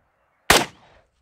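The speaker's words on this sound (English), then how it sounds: "Error. I shot off to the side. Okay. I knew that when I shot." A single sharp gunshot from a pistol caliber carbine firing cast bullets, loud and close, with a quick decaying tail and silence before and after.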